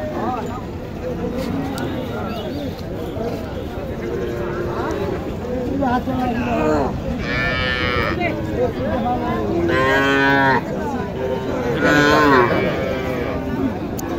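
Young Sahiwal and local heifer calves at a cattle market let out several loud, drawn-out moos in the second half, amid busy crowd chatter and people talking close by.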